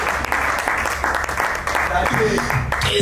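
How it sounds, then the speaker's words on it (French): An audience at a live jazz and slam poetry show applauds with a dense, steady wash of clapping that runs through the whole moment, with voices and some tonal sound mixed in underneath. "Applaudissez pour l'oiseau accroché sur l'arbre"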